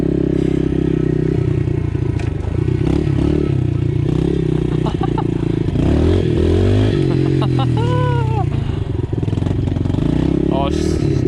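A pit bike's engine runs loud and close, revving up and down with mechanical clatter, while a person talks over it.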